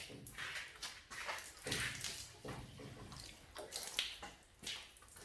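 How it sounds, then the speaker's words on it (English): Water is splashed and poured over a potted melaleuca bonsai in bursts, a hissing, dripping patter that swells and eases in several pulses, fairly close but soft outdoors. "Seth, chuck on some water mate"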